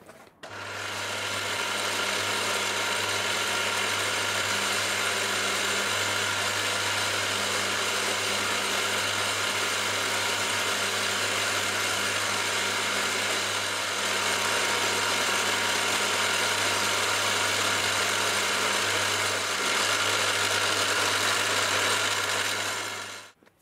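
Milling machine cutting a slot across a workpiece with a 6mm end mill, a steady loud mechanical drone with a strong low motor hum holding evenly throughout, without talk.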